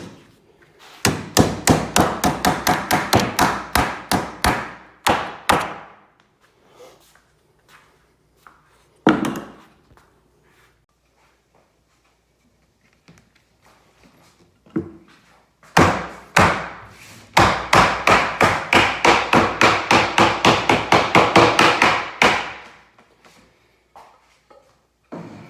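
Rapid, steady hammer blows while fitting metal sheeting onto telescoping beehive top covers, two long loud runs of close, evenly spaced strikes separated by scattered single knocks and taps.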